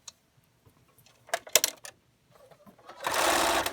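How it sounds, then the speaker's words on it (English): A sewing machine stitches a pleated three-layer cotton mask, first a few scattered clicks and short bursts, then a steady close whirring run of stitching at the end. "now I'm just going to stitch the parallel side."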